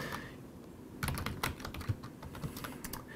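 Computer keyboard typing commands into a network device's configuration mode, a burst of quick, close key clicks after a brief pause, uneven in rhythm and alone without talk.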